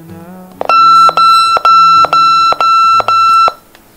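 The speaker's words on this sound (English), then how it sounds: "So we're going to press this in and hold it for 6 beeps." RealCare Gen 6 infant simulator emitting six loud, evenly spaced electronic beeps while its button is held in, each tone sharp and close with brief gaps between.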